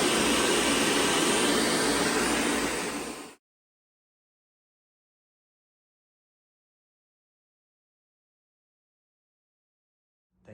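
A vacuum cleaner runs loud and steady with a broad whooshing drone during a Whirlpool fridge repair, then cuts off after about three seconds, leaving silence.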